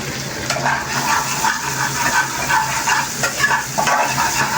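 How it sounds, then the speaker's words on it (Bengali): Turmeric and chili powder frying in a pan while being stirred, a close sizzle with repeated scraping strokes of the spoon and no speech. "তো হলুদটা দিলাম, একটুখানি নাড়াচাড়া করি যাতে হলুদের গন্ধটা চলে যায়"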